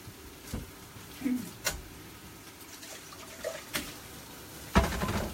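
Rice is washed by hand under running tap water in a kitchen sink. Soft splashing and trickling carry on with a few louder sloshes and knocks, and the sound stays fairly quiet.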